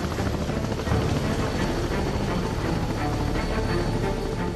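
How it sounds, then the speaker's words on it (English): Helicopter flying over Antarctic sea ice, a steady, loud rotor drone with rapid blade chop, continuous throughout with no pauses. "they have to resort to a helicopter."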